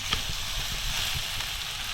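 Onion and tomato sizzling in a pan over a wood-fired stove: an even, hissing fry with light crackles and a few soft stirring taps, close and steady, no voices.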